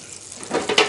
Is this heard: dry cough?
no